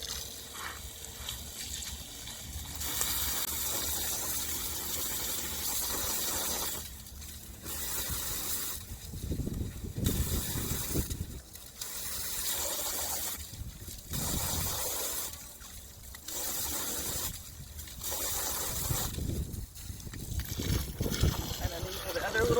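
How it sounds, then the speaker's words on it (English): Koi pond filters get rinsed with bursts of running water during spring cleaning, several gushing spells of a few seconds each separated by quieter pauses, with a voice talking over parts of it. "Rinse those out. Same thing with these filters."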